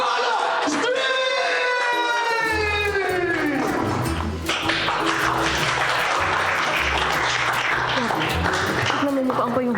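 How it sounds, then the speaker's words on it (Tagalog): Crowd applauding and cheering for a folk dance group at a street community event, loud and sustained, with shouts and whoops rising over the clapping and an announcer's voice heard early on. "Magpalakpakan po tayo na may kasamang hiyawan para sa Folk Dancers ng Sampalo Street!"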